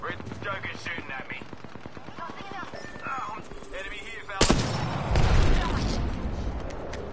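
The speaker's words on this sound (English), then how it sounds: "Red Joker's shooting at me." Rapid automatic gunfire rattles in the Apex Legends video game, a dense burst of shots followed by louder heavy blasts and impacts, with game voices and speech heard alongside.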